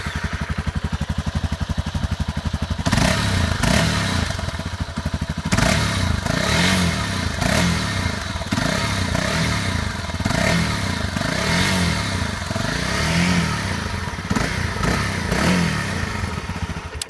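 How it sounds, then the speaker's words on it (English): A Honda CRF250M motorcycle with its standard exhaust pipe is started. After some cranking, the single-cylinder engine settles into a loud, close, chugging run with repeated blips of the throttle rising and falling. "I'm going to quickly start the bike up so you can hear what it sounds like with the standard pipe on."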